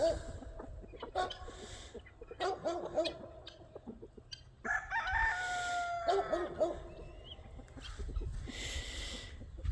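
Hundreds of chickens and guinea fowl settling at dusk, roosters crowing repeatedly over a constant mix of clucking and cackling, busy and close.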